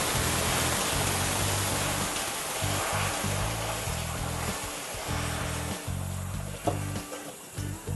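Cold water poured into a hot pork chop pan to deglaze it, a steady loud hissing sizzle and splash that runs throughout and thins out toward the end.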